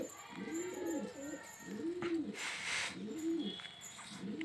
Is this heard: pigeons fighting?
yes